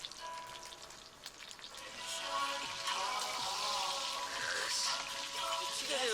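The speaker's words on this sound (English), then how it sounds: "고기가 튀겨지는 소리가 들리세요 이거?" Meat and kimchi fry in hot oil in a pan during outdoor camping cooking. The sizzle is a dense, crackling hiss that swells louder partway through and keeps popping steadily, with no voices.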